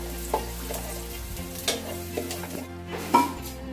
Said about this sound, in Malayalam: ഇനി നമുക്കിതിലേക്ക് കട്ട് ചെയ്ത് വെച്ച തക്കാളിയും കൂടി ഇട്ട് കൊടുത്തൊന്ന് നന്നായി വഴറ്റിയെടുക്കണം.